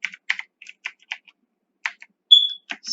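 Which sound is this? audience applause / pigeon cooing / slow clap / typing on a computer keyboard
typing on a computer keyboard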